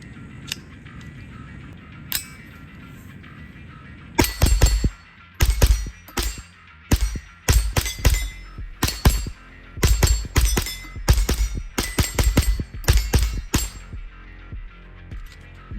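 A suppressed JP-15 .22 Ultralite rifle with a 6-inch shrouded barrel fires through a magazine, giving a series of loud, close, sharp cracks in an uneven rhythm, some in quick pairs, over faint outdoor background.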